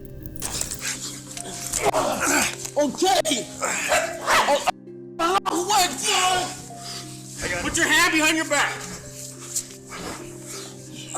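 A service dog barks and yelps during a police arrest, sharp repeated barks close by mixed with shouting and talking voices.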